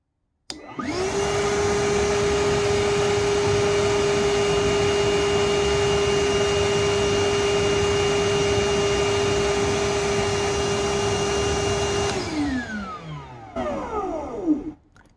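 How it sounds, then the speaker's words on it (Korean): A Milwaukee cordless vacuum cleaner runs steadily at close range with a loud, even whine for about twelve seconds, then powers down with a falling pitch as the motor spins to a stop. "미러키 청소기 소음 한번 테스트 해 보겠습니다"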